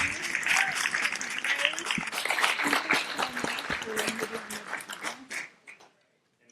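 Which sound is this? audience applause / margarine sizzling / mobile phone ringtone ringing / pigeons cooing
audience applause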